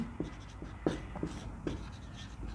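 Marker or chalk strokes on a board during a Class 9 maths lesson in Hindi, a steady run of short scratching strokes repeating about every half second, close and clear with no talk.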